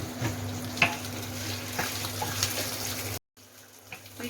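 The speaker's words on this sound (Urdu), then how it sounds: "مرچیاں فرائی ہو چکی ہیں" Green chillies frying in hot oil in a pan, a steady close sizzle with faint crackles throughout, cut by a brief dropout near the end before the hiss resumes.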